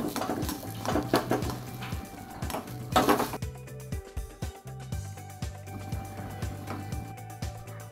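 Mashed potato for potato chops stirred and fried in a kadai, a steady run of metallic spatula scrapes and knocks against the pan with low sizzling underneath, close and fairly busy without any voices.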